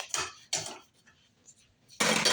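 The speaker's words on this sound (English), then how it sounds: "So we're going to put the burners in the sink." Gas stove burner parts clatter into a kitchen sink in three loud metallic bursts, two close together at the start and one after a short pause, with quieter handling sounds between.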